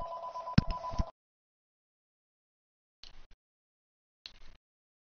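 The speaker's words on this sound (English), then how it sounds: "Sorry for the phone ringing." A telephone rings indoors: a loud first burst of ringing, then two shorter rings after long silent gaps.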